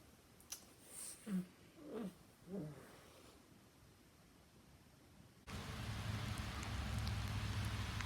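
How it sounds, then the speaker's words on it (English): Micro hail falling in Vermont in April patters steadily and bounces on surfaces, a dense hiss that rises abruptly partway through after a few quieter sounds. "I thought it was sleeting, but it's bouncing when it hits. Micro hail."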